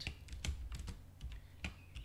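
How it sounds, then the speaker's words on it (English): Rapid keystrokes on a computer keyboard, typed out while coding a recursion exercise, with close, irregular clicks in quick bursts and no talking. "I'm typing it out here"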